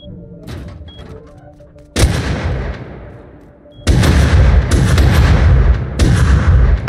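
Gunfire from the console edition of the video game Rust: loud, heavy booming shots in three dense bursts with long ringing tails, the second and third bursts the strongest and lasting longer.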